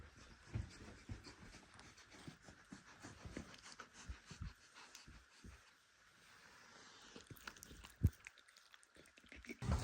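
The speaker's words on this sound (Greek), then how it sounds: "πάμε να χαϊδέψουμε τα σκυλάκια." Dogs pant close by in quick, breathy bursts, with soft sniffs and small movements scattered through a quiet indoor space and a louder rustle at the end.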